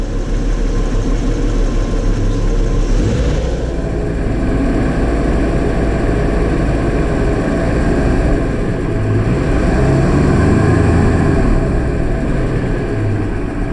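Holden HZ Ute engine running steadily, a low, continuous engine drone with a slight swell in throttle partway through, close and loud with no talking.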